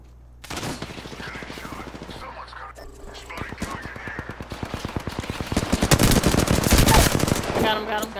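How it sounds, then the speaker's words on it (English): Rapid automatic gunfire from an Apex Legends match rattles in bursts over a steady game backdrop, growing denser and louder toward the end, with voices talking at times. "The enemies are shooting at me"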